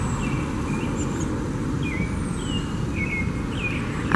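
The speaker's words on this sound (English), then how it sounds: "I'm sure you can also hear the sound of the birds." Songbirds chirp outdoors with scattered short whistled calls, several at moderate distance, over a steady low rumble of background noise, with no talking.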